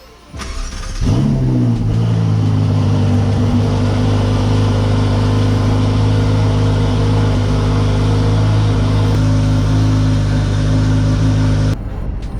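A Ferrari sports car engine cold-starts with a sharp catch and brief flare, then settles into a loud, steady high idle that holds for about ten seconds before cutting off abruptly near the end.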